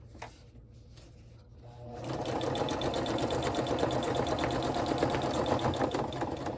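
A sewing machine starts up and stitches through a paper journal base, a steady fast mechanical whirring with rapid needle ticking, close and fairly loud after a quieter opening of a couple of seconds.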